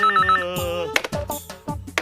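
A telephone rings with a repeated electronic ringtone, loud and close, while sharp knocks and thuds break in over it.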